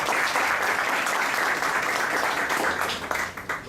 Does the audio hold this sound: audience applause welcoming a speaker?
yes